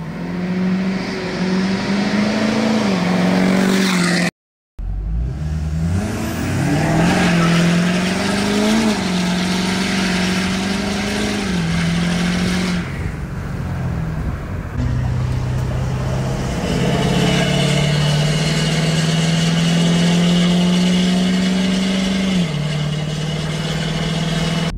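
A Ford 6.7 Powerstroke diesel pickup, tuned and deleted and running a 5 inch straight pipe, drones loudly as it drives by and accelerates, its pitch rising and falling through several gear changes, with a brief cut near the start.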